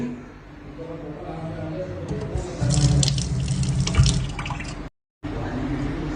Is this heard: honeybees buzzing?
no